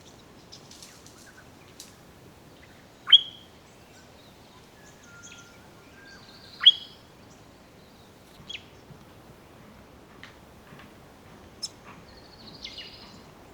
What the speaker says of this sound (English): A flash of bright yellow in the heathland reveals the crescent honeyeater.